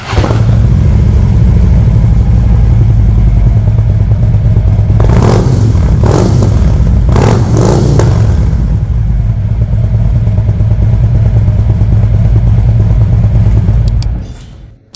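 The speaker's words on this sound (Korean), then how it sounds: "이제 슈퍼트랩 머플러 소리 한번 들어보겠습니다." A 2015 Harley-Davidson Road Glide 103, 1690cc, with a Supertrapp muffler idles loudly and close with a deep, lumpy rumble, blipping the throttle in a few sharp revs before settling and shutting off.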